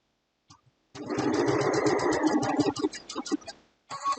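A sewing machine stitching fabric for machine appliqué, running in a steady rapid mechanical chatter for a few seconds, slowing, then a short final burst, close and clear.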